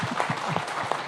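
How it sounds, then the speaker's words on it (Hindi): Audience applause at a health talk, a steady wash of clapping from many hands that fills the whole short stretch with no voices over it. "इतनी कम तालियों से नहीं चलेगा काम।"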